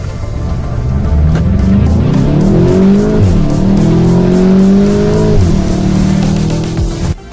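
Volkswagen Golf GTI with a 7-speed dual clutch gearbox accelerates hard, its engine rising loudly through gears with a clear upshift, tires squealing slightly, close and continuous.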